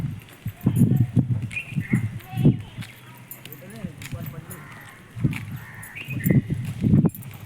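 Goats bleat a few times amid shuffling hooves and nearby chatter; the animals sound close, with calls rising and falling over several seconds.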